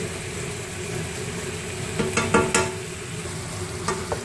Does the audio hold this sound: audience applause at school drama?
no